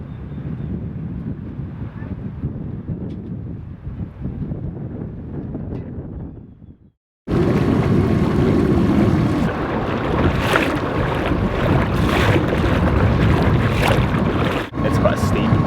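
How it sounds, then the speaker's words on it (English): Strong coastal wind of about 27-knot gusts buffets the microphone with a loud, continuous roar, briefly dropping out before returning even harder, gusting throughout. "It's actually super windy. Really, really windy."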